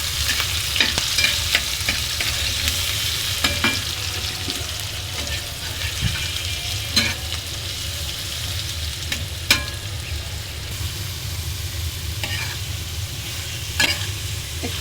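Green chilies and onion fry in a pan with fried banana stem in a steady, close sizzle, broken by occasional stirring scrapes and clinks.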